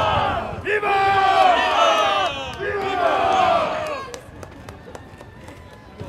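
A crowd of townspeople shouts a rousing vivat for the prince at a reenactment of the 770th anniversary of the Battle of Legnica, held on a town square; loud overlapping voices swell, then ebb into scattered calls and sharp clacks.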